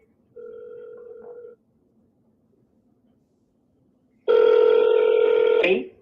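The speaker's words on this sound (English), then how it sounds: "No pickup, no voicemail," A phone call goes unanswered, with a short ringback tone near the start, a pause, then a louder, longer tone burst that cuts off abruptly; no one picks up.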